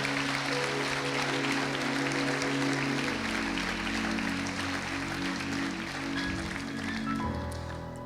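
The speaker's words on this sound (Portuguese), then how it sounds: "Você podia aplaudir essa palavra" Congregation at a church service applauding, a sustained wash of clapping over a held organ or keyboard chord that shifts partway through and fades slightly at the end.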